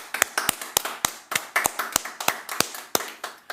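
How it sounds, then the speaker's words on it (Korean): A church congregation claps in worship, giving a dozen or so sharp, fairly even claps that ring out clearly in a reverberant room, with no talking. "우리 박수로 하나님께 영광 돌리도록 하겠습니다"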